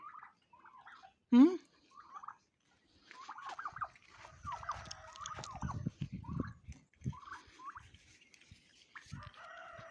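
Turkeys gobble and cluck nearby in a rural yard, with a loud sharp gobble early on and scattered fowl calls, rustling and handling noises following.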